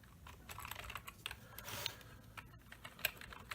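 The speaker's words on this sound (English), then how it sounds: "I can finally type stuff with my keyboard here." Steady typing on a USB keyboard plugged into a Nexus 7 Android tablet through an OTG cable, with rapid clustered keystroke clicks at close range and no voices.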